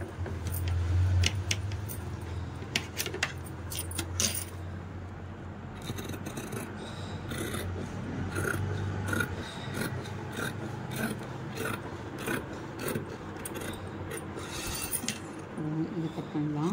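Scissors cut through blouse fabric in a steady run of rasping, rubbing snips at close range, continuing without pause for the whole stretch.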